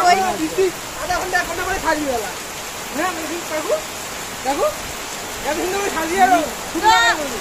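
Heavy rain driven by strong wind makes a constant wash of noise outdoors while people talk over it throughout.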